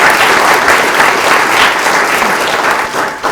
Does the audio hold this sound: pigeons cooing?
no